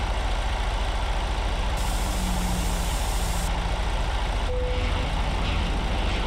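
Truck coupling to a trailer in American Truck Simulator, a steady engine drone with a brief air-brake hiss and a short high electronic tone near the end, no talking.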